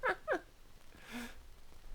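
A playful human voice imitating cat noises: two short, bright mewing yelps in quick succession, followed by a softer drawn-out purr-like murmur, all close and fairly quiet with no talking.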